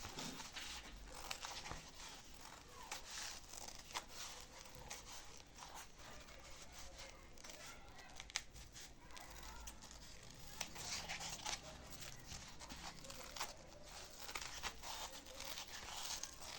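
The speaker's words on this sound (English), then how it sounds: "I'm going to try as much as possible to trim all around." Scissors trim around homemade sandal insole material, a very faint run of small snips and crinkly cutting sounds repeating steadily throughout.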